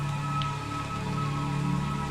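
Steady rain falls in a continuous, even wash of drops, with low droning tones beneath and no voices.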